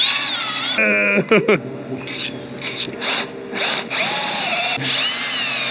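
A power tool whirs in short, loud bursts during a handlebar riser install on a Nightster motorcycle, stopping and starting with clicks and pauses between runs, close by.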